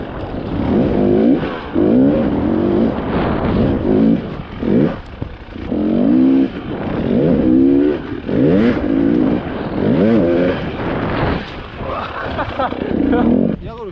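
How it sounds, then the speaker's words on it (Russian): A motorcycle rides over jumps on a muddy training track, its engine repeatedly surging and dropping in loud, close bursts of revving, with a voice speaking over it at times. "Проедь с прыжками, как ты ехал здесь."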